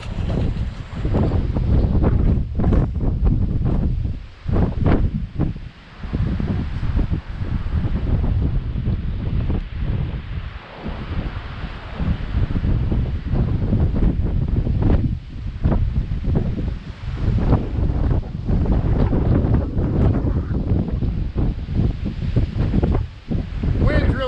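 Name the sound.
strong wind blowing a GoPro on a stick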